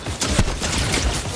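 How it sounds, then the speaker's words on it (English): Gunfire in the Fortnite Chapter 5 battle royale game, a brief burst of close, loud shots in a sniper-rifle match, with dense game noise and no clear talk. "I heard gunshots."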